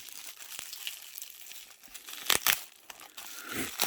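A padded mail envelope holding sports cards is handled and opened up close, with soft continuous crinkling and a few sharp tearing or ripping bursts near the middle and a rustle toward the end, with no talking.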